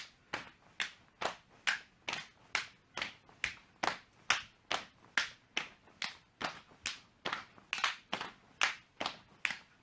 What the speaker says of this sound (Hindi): पैरों को एक साथ खोलना है और साथ में सिर के ऊपर ताली बजानी है